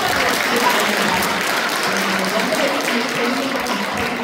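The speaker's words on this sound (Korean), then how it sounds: "힘찬 박수로 환영해" A congregation at a Won Buddhist temple service in Korea gives a hearty round of applause to welcome a new member: a dense, steady wash of clapping holding at an even level throughout.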